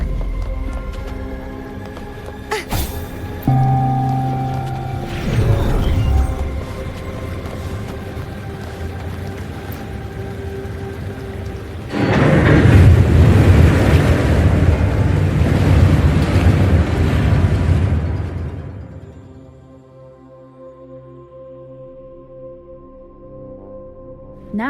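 Water drains away in the video game Wuthering Waves, a broad rushing, sloshing wash that swells loudly through the middle before cutting off into a quiet hum, preceded by a few clanks and tonal game effects.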